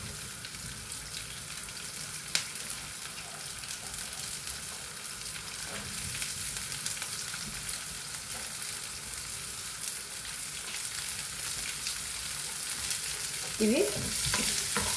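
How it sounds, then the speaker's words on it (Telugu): Chopped onions fry in a pan for a Kerala-style chickpea masala curry, with a steady close sizzle and occasional stirring scrapes, and a brief voice near the end. "ఇవి ఎల్లిపాయలు మొత్తం అన్నీ వేసి ఫ్రై చేసుకోవాలండి."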